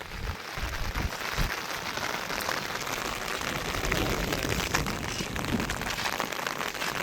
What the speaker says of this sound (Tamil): இது கங்கால நல்ல மழை பெய்யுது